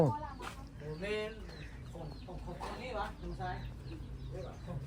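Chickens cluck around a village house in Laos, close and continuous, while people talk over them throughout.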